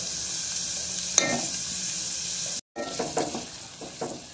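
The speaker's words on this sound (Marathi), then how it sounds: "कांदा आपण चांगला लालसर होईपर्यंत परतून घेतोय" Finely chopped onions fry in hot oil, a steady broadband sizzle with a brief dropout midway, then scraping stir strokes at close range, no voices.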